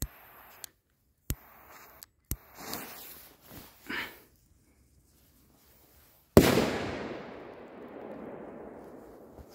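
A single FS3 firecracker bursts with a loud sharp bang near the end, its crackling roar trailing off, after several faint clicks and brief rustles beforehand.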